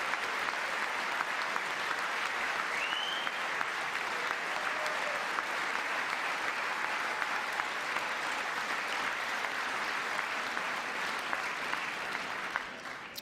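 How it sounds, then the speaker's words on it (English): Sustained applause from a large audience during a presidential address to Congress, dense steady clapping that carries on at an even level for over ten seconds before tapering slightly at the end. "more clapping"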